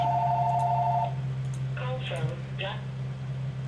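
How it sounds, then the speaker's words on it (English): A telephone rings in a steady tone for about a second over a constant low hum, then someone talks briefly. "My darn phone just always ringing."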